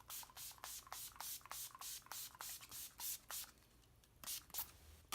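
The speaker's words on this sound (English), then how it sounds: "I'm going in with the Urban Decay All Nighter setting spray and giving myself a good dousing here." Urban Decay All Nighter setting spray misted onto a face in a rapid run of about a dozen short, crisp hissing pumps, close and fairly steady in rhythm with a brief pause near the end.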